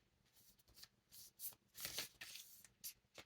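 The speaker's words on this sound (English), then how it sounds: "I have not shuffled these cards for so long." A deck of cards is shuffled by hand in several quick riffling bursts, close and fairly quiet, with soft rustles between them and no talking.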